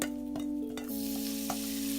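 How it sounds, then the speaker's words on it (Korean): Mixed kimchi rice lands in a pan thinly coated with cooking oil and sizzles steadily and close, with a few soft scraping knocks of a spatula over a sustained tonal hum. "섞었던 김치밥을 넣어줍니다."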